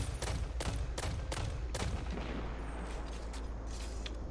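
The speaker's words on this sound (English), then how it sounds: "Shooting all the mines in the ground so I don't step on them." Gunfire in Destiny 2 shooting mines on the ground: a quick series of about six sharp shots over the first two seconds, then a dull rumbling tail, loud over steady background noise.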